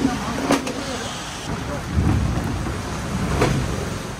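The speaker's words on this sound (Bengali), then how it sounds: "বৃষ্টিটা এখন হয়ে যাচ্ছে ভালো" Rain falls steadily outdoors as a broad, even hiss with a few louder bursts and low rumbles, a voice faintly present in the background.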